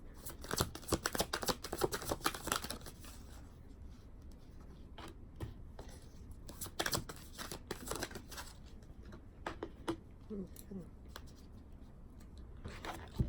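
Tarot cards are shuffled by hand in a quiet room, quick papery riffles and slides that come in bursts, loudest at the start, with soft taps as cards fall.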